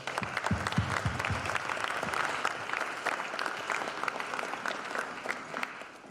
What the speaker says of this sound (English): So we can give one more round of applause to everyone who's spoken so far.